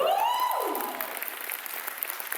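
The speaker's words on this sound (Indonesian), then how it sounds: "Berikan aplaus untuk semua." An audience at a business event for Living For You (L4U) applauds, a steady wash of clapping following a brief sweeping synth tone at the start.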